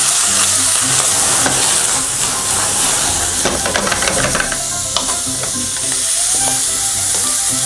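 Sausages sizzle and crackle loudly in a hot, lightly oiled pan, a dense steady frying hiss with scattered pops and stirring scrapes throughout, no voices.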